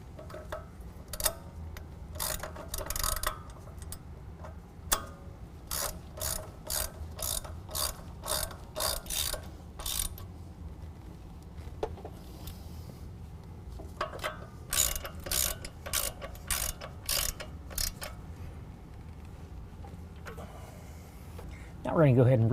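A ratchet wrench fitted with a 21 mm socket working on the front suspension of a 2019 Ram 1500 during a leveling kit install, giving repeated bursts of sharp clicking close by with pauses between strokes, under occasional talk.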